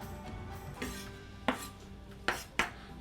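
A kitchen knife cuts through baby onions on a board while risotto is prepared: a few close, crisp chops land unevenly, including a quick pair near the end, with quiet handling noise between.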